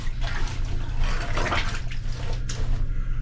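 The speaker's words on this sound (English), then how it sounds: "Squeeze the water out." Water splashes and drips as laundry is squeezed inside a beach dry bag, a close, wet gushing that swells in the middle and tapers off in short trickles.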